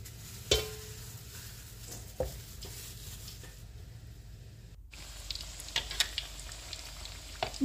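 Potato and corn perkedel fritters frying in hot oil, a steady soft sizzle running throughout with a few sharp clicks and clatters of a utensil stirring or turning them in the pan.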